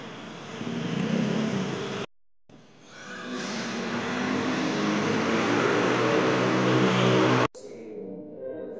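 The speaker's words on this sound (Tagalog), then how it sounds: "Traffic na naman." Car engines hum and rev in city traffic, a steady rising drone with brief cuts and a quieter stretch near the end, no voices audible.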